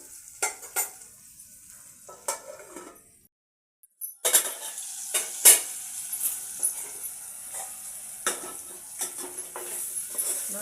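Boiled dried brinjal strips fry in oil in a pan with a soft crackling sizzle, broken by repeated sharp clinks and scrapes of a spoon stirring against the metal. Everything goes quiet briefly, then the stirring and sizzling start again.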